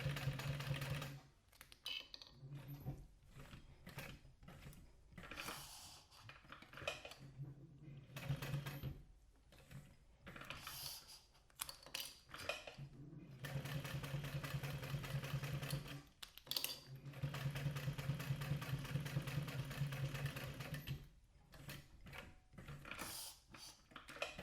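A domestic sewing machine stitches close along the edge of a bifold wallet's cash slip pocket, running in bursts of steady rapid whirring and clatter that start and stop, fairly quiet and close.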